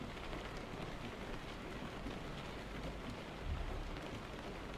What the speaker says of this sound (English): You get snowflakes, which is what the mod used to do, but you still get the rain sound.